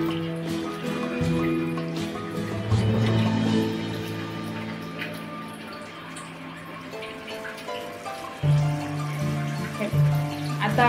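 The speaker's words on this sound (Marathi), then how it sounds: "ते सुद्धा आपण स्वच्छ एकदम पाण्यामध्ये असं धुवणार आहे" Freshly cut potato is swished and rinsed in clean water in a home kitchen, with soft splashes and drips under steady background music.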